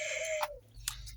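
A hen in a backyard poultry run gives a couple of short, soft clucks close by, with a faint steady hum underneath and no talking.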